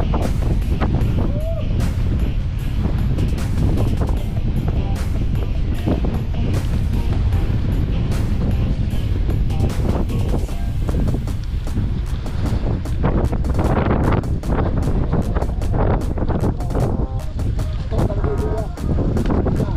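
Steady wind buffeting the microphone on a bike ride through Brgy. Malico, San Nicolas, Pangasinan, a continuous low roaring rumble throughout with bursts of gusts, while people talk now and then underneath.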